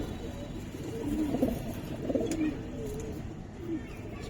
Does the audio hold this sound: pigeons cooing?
yes